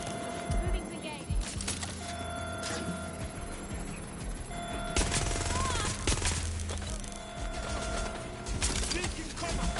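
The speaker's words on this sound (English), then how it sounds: "Shots fired! Shots fired! Engaging hostile target. Taking fire!" Repeated gunfire in the video game Watch Dogs: Legion, with sharp shots and short volleys over several seconds, mixed with game voices shouting.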